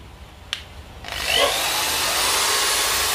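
A Japanese 110V electric drill spins up in reverse with a rising whir that settles into a steady, loud, close hum, alone with no voices.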